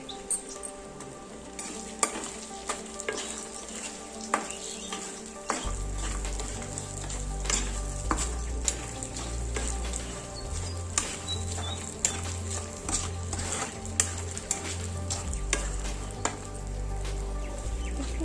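Bay leaves, cloves, peppercorns, cinnamon and garam masala frying in hot oil in a pan for paneer curry, a quiet sizzle that swells suddenly partway through and keeps crackling, with occasional stirring clicks.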